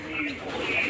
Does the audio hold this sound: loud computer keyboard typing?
no